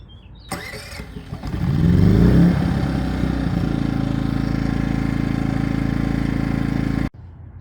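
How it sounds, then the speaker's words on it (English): An EcoFlow Smart Generator engine cranks and catches, revs up briefly, then settles into a steady, loud mid-pitched idle hum before cutting off abruptly near the end. "Just swipe this and the engine will start."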